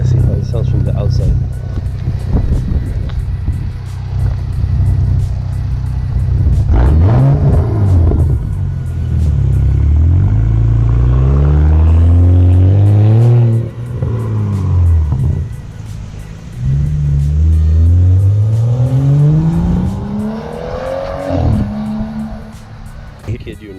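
A BMW X5 F15 with its muffler deleted revs hard, loud deep exhaust rising and falling in several long pulls, heard from outside with a brief voice underneath.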